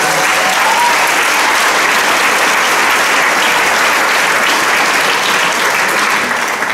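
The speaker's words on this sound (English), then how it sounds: "Let's give these guys a big round of applause." Sustained, loud audience applause fills a high school jazz band concert, a dense, even wash of many hands clapping at once with no pauses and no talking over it.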